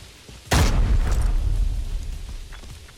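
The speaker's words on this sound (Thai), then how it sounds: "มันโยนระเบิดว่ะ" A grenade explodes during a match of the video game Arena Breakout, set in a dark mountain pass: one loud, close boom cracks suddenly after a moment of quiet, then fades into a long low rumble with no talking.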